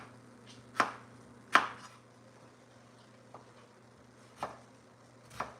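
A knife chops through potatoes for French fries on a cutting board: five crisp, close thuds at irregular intervals, the first two loudest, with quiet pauses between and no speech.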